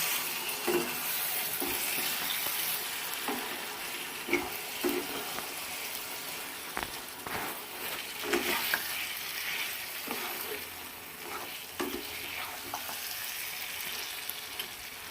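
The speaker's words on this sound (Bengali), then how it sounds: "টমেটো কুচিটা এর মধ্যে দিয়ে দেবো ভালো করে নাড়িয়ে দেবো" Chopped tomato frying and being stirred into a mutton curry with ground cumin and chilli paste, a steady close sizzle broken by repeated scraping stir strokes, with no talk.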